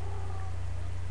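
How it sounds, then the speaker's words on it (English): A pet cat gives a single short meow indoors, fairly faint over a steady low electrical hum. "that's my cat"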